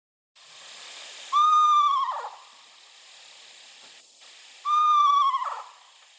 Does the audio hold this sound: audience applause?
no